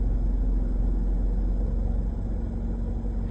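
A car reverses close by with a steady, low engine rumble that holds evenly throughout, with no voices.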